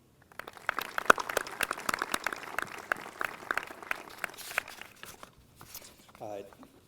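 Scattered clapping for a salutatorian at a prep school graduation ceremony, fairly sparse and uneven, with rustling and a voice beginning to speak as the clapping dies away.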